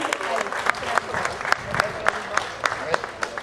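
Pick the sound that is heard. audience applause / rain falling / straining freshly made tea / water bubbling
audience applause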